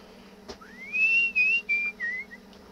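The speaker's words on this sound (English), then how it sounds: "I didn't mean to whistle just now." A person whistles a short rising and wavering tune close to an open microphone, one continuous line broken into a few held notes over a steady low hum, with a brief click at the start and no talking.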